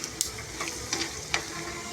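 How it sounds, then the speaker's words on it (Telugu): Peanuts fry in a pan of oil for pulihora, giving a steady close sizzle with a few sharp crackles and pops. "ఇలా వేయించుకొని పులిహోరలో వేసుకుంటే తినేటప్పుడు చాలా బాగుంటుంది"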